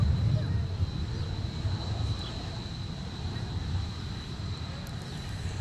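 An airliner lands at Minneapolis–St. Paul (MSP) airport, heard as a steady, fairly loud low jet rumble that rolls on unbroken without any sharp peaks.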